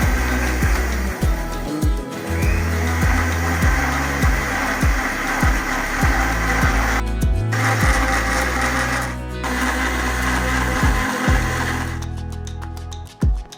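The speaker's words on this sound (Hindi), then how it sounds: "ब्लेंडर की मदद से हम इसको मिक्स करेंगे।" An electric blender whirs continuously while mixing eggs, sugar and vanilla essence for steamed egg pudding, a loud, steady motor drone with rhythmic thumps and brief changes in pitch as the batter churns.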